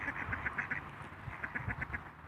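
Domestic ducks quack at a backyard home in a quick series of nasal calls, fairly faint and at moderate distance, over soft background noise.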